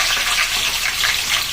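Cumin seeds and onions sizzle in hot oil, a steady close hiss of frying with no pauses and no voices.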